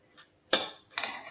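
A spoon or fork knocks against a bowl while kale is mixed with a walnut dressing: two short, sharp clinks a half second apart, close and clear in a quiet room.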